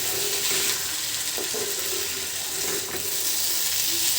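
Fish and potato with chopped garlic frying in a pan for Bengali fish bhorta, a constant close hiss of sizzling oil with faint clinks and shifts underneath.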